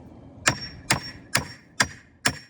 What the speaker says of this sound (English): then use my hammer to back the nail out